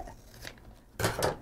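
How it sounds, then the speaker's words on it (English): Scissors cut a length of clear label protector film off a roll, a brief crisp crunching snip near the end after a quiet moment. "So cut an appropriate amount of our label protector off the roll"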